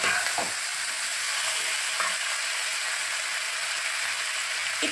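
Chopped vegetables are tipped into a pan of chicken frying in butter for a homemade chicken soup, giving a steady broadband sizzle with a few soft stirring knocks throughout, close and fairly loud, with no talking.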